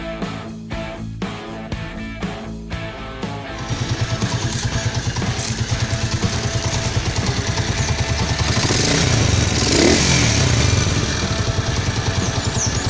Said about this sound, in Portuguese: Funcionando o motor e pintura hard.